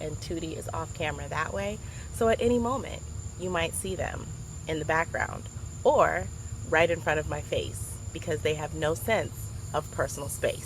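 A steady, loud insect drone, like cicadas or crickets, fills the outdoor air continuously beneath a person talking close by.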